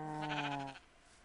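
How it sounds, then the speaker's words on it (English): Sheep bleating in the video game Minecraft, a single clear, close bleat with a wavering tone lasting under a second before fading to quiet. "Sheep over there?"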